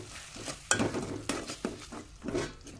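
Ground okra seed paste being stirred into hot tempering in a pan: several close scraping, clinking strokes of a spoon against metal, irregularly spaced over a faint sizzle, with no voices.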